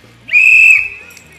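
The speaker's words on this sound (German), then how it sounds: "Pfeif nochmal, er versteht's nicht. Pfeif nochmal." A single sharp, high whistle, held for about half a second and then trailing off more softly.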